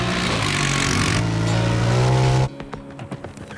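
A Honda Pioneer 1000 Deluxe Crew side-by-side revs hard, its engine note rising and holding loud and close for a couple of seconds before cutting off abruptly into quieter scattered knocks and rattles.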